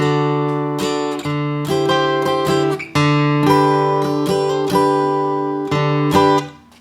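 A guitar plays the intro phrase of a song, picked notes and ringing chords, steady and close, ending on a fading note; no talking.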